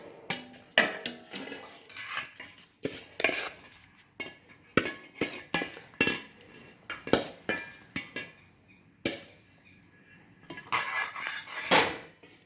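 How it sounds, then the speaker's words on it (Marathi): A metal spoon stirring raw mango pickle pieces in oil inside a pot, with repeated close clanks and scrapes against the vessel in an uneven rhythm, loudest near the end. "आता ह्याला तेल असल्यामुळे ह्याला आपण त्याने हलवून घेऊ चमच्याने व्यवस्थित"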